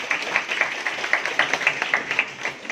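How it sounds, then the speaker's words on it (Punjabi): An audience at a seminar on stubble burning at an agricultural science centre breaks into brief, brisk applause, a dense patter of hand claps that rises and tapers off. "ਆਪਣੇ ਲਈ ਵੀ ਇੱਕ ਤਾੜੀ ਮਾਰ ਲਿਆ।"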